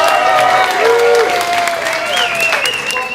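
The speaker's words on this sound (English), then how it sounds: "I want you to clap for the person." Crowd applause with scattered cheers at a Mardi Grass event, dense steady clapping under whistle-like tones and a voice.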